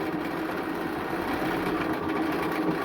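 A sewing machine runs a basting stitch along the edge of a two-piece collar, a steady, close whirring with a fast, even needle rhythm and no talk.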